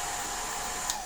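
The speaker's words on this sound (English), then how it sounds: "If you wanted to, you could do the blow dryer a little bit right now." A blow dryer runs steadily at close range, drying freshly painted beach-themed nail art with a smooth, constant whir and a brief louder puff near the end.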